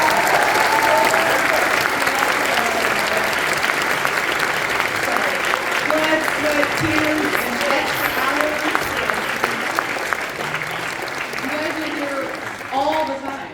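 Sustained loud audience applause at a school spring concert and awards night, a dense wash of clapping from a large crowd lasting throughout, with faint voices mixed in.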